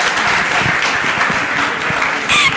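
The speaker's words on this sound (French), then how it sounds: "Les dames, applaudissez-la." Women in an audience at a national science week training event clap for a girl receiving a prize, a steady burst of applause with a brief voice near the end.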